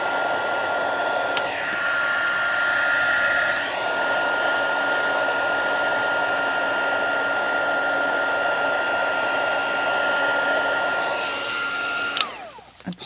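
Handheld heat tool blowing hot air onto embossing powder on a gilded winter birthday card, a steady close whooshing drone with a fan whine that runs unbroken and cuts off near the end.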